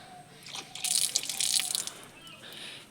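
Water running and splashing at a temple water tank, soft at first, swelling into a brief gush of bright splashing, then settling to a lighter trickle with drips.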